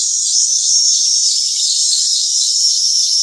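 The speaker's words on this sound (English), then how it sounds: "That's a cicada sound. Like a high-pitched siren." Cicadas drone in a continuous, loud, high-pitched buzz like a steady siren, sustained without pause and heard alone with no talk.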